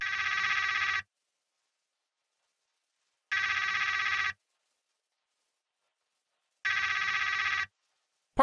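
An electronic telephone ring in the video game Trover Saves the Universe, three evenly spaced one-second bursts separated by long silences, clear and alone.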